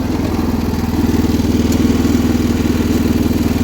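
A 1979 John Deere 216 lawn tractor drives in fourth gear, its small engine holding a loud, steady, low throbbing drone with a faint mechanical clatter, close by and alone.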